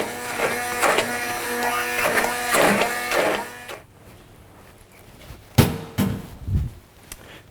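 A blender purees steamed fruit with a buzzing, humming motor for about four seconds, then cuts out, followed by a few scattered knocks and clatters.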